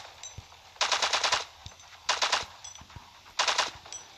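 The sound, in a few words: gunfire shooting balloons in LifeAfter video game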